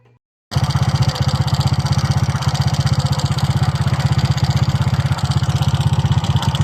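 After a brief silence, a Honda Click 125 scooter engine fitted with stage 2 Block 56 cams and valve springs starts idling with a rapid, steady putter, loud and close, holding an even rhythm throughout.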